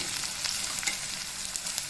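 Onions sizzling and frying in a pan for a dhania chicken curry, a steady close crackling hiss that fills the whole clip with no voices.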